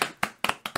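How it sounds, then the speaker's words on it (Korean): A handful of people clap in short sharp bursts at the close of a Korean talk on CPR and disaster preparedness, five separate claps at an uneven pace, close and dry, with no voices over them. "박수 한번"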